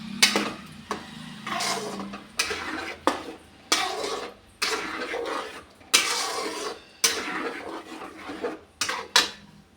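Vegetables fried for a white sauce pasta are stirred in a pan, giving repeated scraping and clanking bursts of a utensil against cookware at a steady rhythm, close and fairly clear with no talk.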